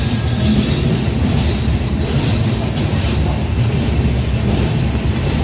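A train rolls through Itarsi Junction railway station in Madhya Pradesh, a loud, steady rumble of wheels on track with faint rhythmic clatter and no voices.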